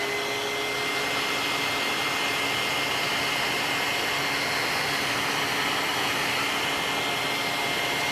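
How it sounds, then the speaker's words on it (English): A dryer blows steadily over a freshly painted canvas, a loud continuous whooshing hum that holds unchanged throughout with no voices. "I'm drying my canvas real quick"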